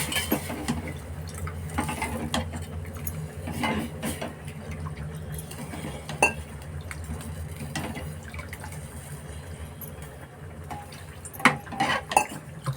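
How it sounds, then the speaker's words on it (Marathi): Water is poured into a pot of Agri-style turmeric dal, a soft running splash under low kitchen rumble, with occasional metal clinks of a utensil against the pot, close and fairly quiet. "हवं तेवढं पाणी घालायचं."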